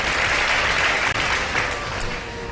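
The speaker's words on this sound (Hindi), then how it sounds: "बहुत सारी तालियां" A studio audience on an iftar television game show breaks into brisk, steady applause, a full, close clatter of many hands that eases off slightly toward the end.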